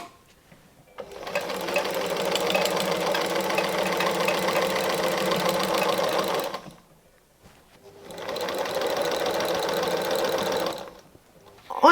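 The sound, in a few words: sewing machine sewing the last seam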